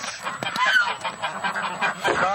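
Ducks in a barn call out together in a loud, close chorus of overlapping honking quacks that keeps going without pause.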